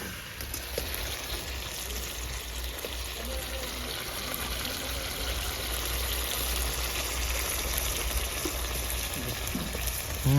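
Thin-sliced potatoes and broccoli sauté in gravy in a pan with a steady, low sizzle and bubbling throughout, fairly quiet and continuous.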